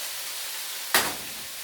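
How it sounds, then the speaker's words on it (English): Cabbage dropped into a hot pan sets off one sudden burst of sizzling that swells quickly and then settles into a softer, lingering hiss, heard alone without voices. "I'm going to add some of this cabbage to the pan"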